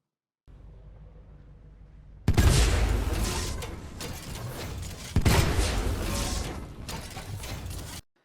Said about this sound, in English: that's just standardly firing as Scorch